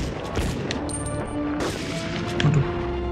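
Pistol shots in the video game Medal of Honor Underground, a few sharp bangs and crashes scattered through busy game sound effects, fairly loud with no voices.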